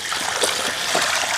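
Water sloshing and splashing steadily in a bucket as sweet potatoes are washed, close and continuous with light trickling throughout.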